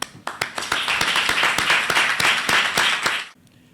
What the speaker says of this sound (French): Je tiens, mesdames, messieurs, à vous applaudir